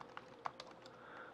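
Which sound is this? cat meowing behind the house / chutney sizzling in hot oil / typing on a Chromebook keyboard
typing on a Chromebook keyboard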